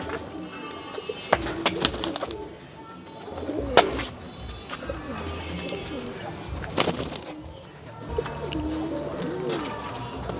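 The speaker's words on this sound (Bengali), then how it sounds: "এই যে একজোড়া ভালো কবুতর, এটা যে খুলনার গলা লাল কবুতর" A pair of Khulna red-necked pigeons cooing up close in repeated throaty phrases, joined by wing flutters and handling thumps, with people talking softly around them.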